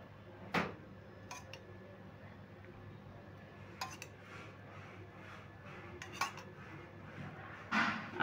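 A spoon stirs mustard oil into a mashed potato mixture in a bowl, with a few sharp clinks and scrapes of metal against the dish separated by quiet pauses.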